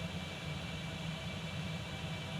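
A Concorde jet takes off in the X-Plane 11 flight simulator, its engines giving a steady, even roar and a broad hiss of noise for the whole span, with no voices.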